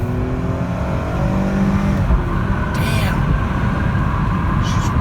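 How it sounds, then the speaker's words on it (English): A 2000s Mercedes-Benz E320 W210 sedan accelerating from a standstill, heard from inside the cabin: a loud, steady engine drone with rising tones, road roar underneath and brief bursts of higher noise. "All right, 0 to 60, here we go. Holy crap, it's burning the tires."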